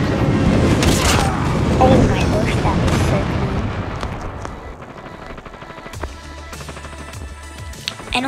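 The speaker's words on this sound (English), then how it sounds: "Friendly airstrike incoming." Friendly airstrike explosions in the video game Call of Duty Mobile roll out as a loud, dense burst of blasts and rumbling that thins into scattered crackles, with a voice faintly underneath.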